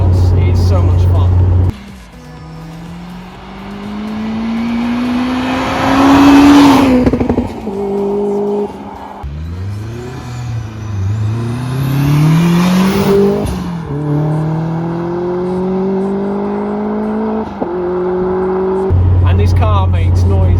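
A Honda Integra DC5 Type R engine revs hard on the move, its pitch sweeping up through the gears in long loud pulls with brief drops at each shift, the car close and dominant throughout.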